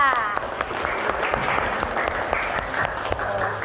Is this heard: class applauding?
yes